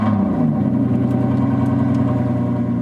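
Aston Martin Vantage engine running loud in sport mode just after a push-button start, a steady deep rumble held at close range with no voices.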